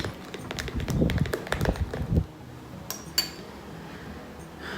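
A spoon stirring a yogurt and baking soda face mask in a bowl, rapid clinking scrapes for about two seconds, then a pause and a couple of isolated taps, close and fairly quiet, no talk.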